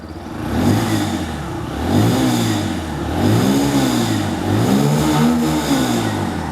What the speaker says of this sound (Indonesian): Kita dengerin geberan suaranya nih.